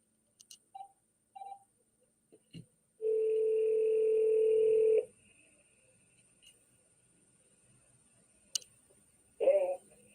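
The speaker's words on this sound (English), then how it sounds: "We about to call Ricky" A phone call being placed: a few soft taps and clicks, then a steady two-second electronic tone, and a short burst of ringing or line noise near the end, all fairly quiet with no talking.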